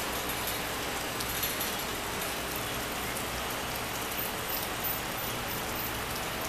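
Light misting, sprinkling rain falls outdoors as an even, continuous soft hiss, steady and fairly faint throughout with no voices.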